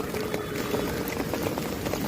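Rainwater from a flooded wetland drains in a current through a fishing net set to catch fish: a continuous, close rushing and gurgling of flowing water, loud and steady, with no clear voices.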